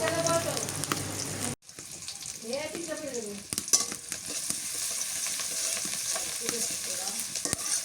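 Chopped onion and green chilli fry in a pan for a village-style fish curry, a continuous close sizzle with stirring scrapes after a brief cut, while a voice talks over the start.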